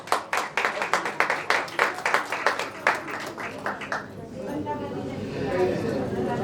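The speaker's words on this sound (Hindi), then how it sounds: "इसलिए मीता जी, जिग्ना जी, फिर से अनिल जी और फिर से रावत जी के लिए वापस तालियां।" A few people clap in a steady rhythm at an occult and astrology summit in honour of the speakers, the claps distinct and fairly close, then they die away into murmuring crowd chatter.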